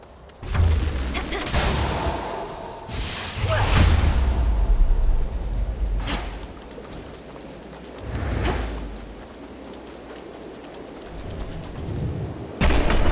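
A storm rolls through in the Hades 2 video game, with repeated booming thunder cracks and rumbles over a dense, loud backdrop of combat sounds.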